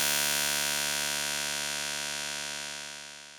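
A single plucked guitar-string note synthesized on a Nord Modular G2 rings out bright and buzzy with rich harmonics, then slowly fades over a few seconds with nothing else heard.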